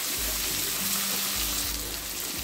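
Spiced masala for Bengali-style mutton fries in oil with a steady broadband sizzle and hiss, continuous and close, with faint low thumps of stirring and no voices.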